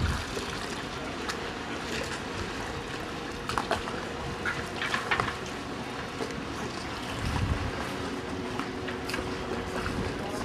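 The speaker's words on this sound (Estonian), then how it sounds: "Lõpuks on paat kohal." A boat arrives at Marmaris harbour amid steady engine rumble and water wash, with scattered knocks and faint voices running continuously underneath.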